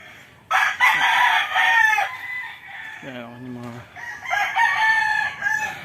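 A rooster crows loudly nearby, with other white chickens clucking around it in a busy backyard poultry farm.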